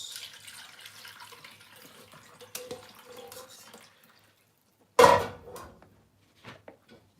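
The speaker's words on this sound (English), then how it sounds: "I'm adding more water to the broth so I can easily sieve it out." Water pours into a pot of chicken broth in a home kitchen: a soft running trickle with faint clinks, then a brief louder splash and pour, followed by a few small drips and knocks near the end.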